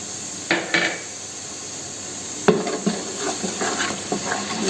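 A spoon stirs spices, coriander powder and tomato puree in a pan, making close scraping, scratchy strokes in short bursts over a faint sizzle.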